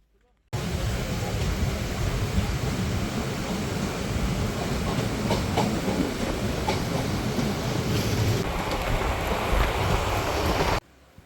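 The Mayurakshi Express on the Howrah to Deoghar line stands at Dumka station platform 2, with a loud continuous rumble and hiss of train noise that starts abruptly and holds steady for about ten seconds.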